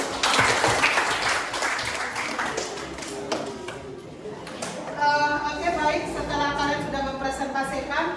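A class of students applauds, a busy spatter of clapping in the first half that thins out, followed by a voice speaking with a tonal, sing-song quality in the room.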